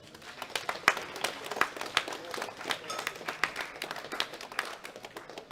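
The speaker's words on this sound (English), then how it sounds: "Give them a big round of applause." Applause for junior men's medalists at the 2021 World Classic Powerlifting Championships: a modest crowd claps in scattered, distinct hand strikes that are moderately quiet and irregular, with a few sharper claps standing out.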